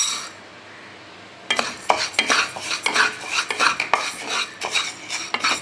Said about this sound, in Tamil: இந்த பாசிப்பருப்பு பார்த்திங்கன்னா லேசாக வறுத்து எடுத்துருவோம்.